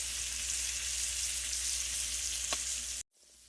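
Salmon cooks in a pan on medium heat with garlic and lemon juice nearby, producing a continuous, even sizzle that runs steadily and then cuts off abruptly near the end.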